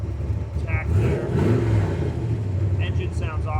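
A Factory Five MK4 Cobra replica with a fuel-injected 427 V8 and 5-speed idles with a deep, steady rumble and then swells into a revving growl, close by, while someone talks over it.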